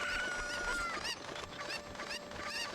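Chickens clucking in the Zelda: Ocarina of Time video game, a steady busy run of fowl calls with no speech, loud and close throughout.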